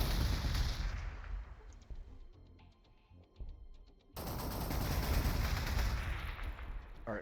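Stubber fire from an Adeptus Mechanicus unit in Warhammer 40,000: Gladius crackles in loud rapid bursts, thins to a few quieter pops mid-way, then resumes as dense sustained gunfire.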